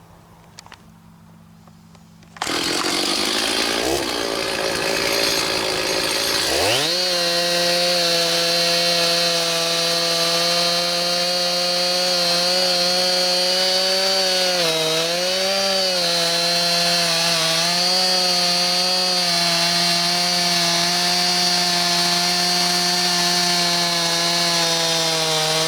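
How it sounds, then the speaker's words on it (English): A chainsaw cuts up logs from an old pear tree, starting after a short quiet moment, then revving up and holding a loud, steady, close-up engine whine with slight dips in pitch as the chain bites into the wood. "you can see me there cutting up the logs and doing stuff with the chainsaw"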